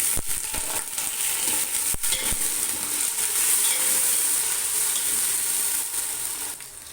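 Potatoes tumble into golden fried onions in hot oil for aloo pulao and get stirred, a steady loud sizzle running throughout with a few sharp clinks of the spoon against the pan.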